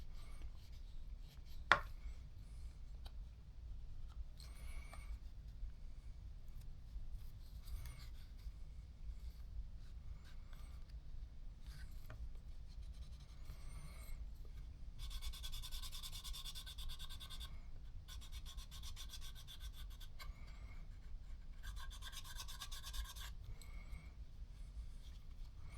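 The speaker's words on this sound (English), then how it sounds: "using this burnisher to pry this edge out, finish this edge, but also make room for that handle." A burnisher is rubbed along the edge of a leather knife sheath, making quiet, close rasping strokes that come in several separate bursts against a low background hum.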